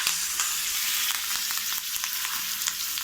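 Curry leaves crackling in hot oil for a coconut chutney tempering, a loud, dense, continuous sizzle close by with quick popping spatters throughout.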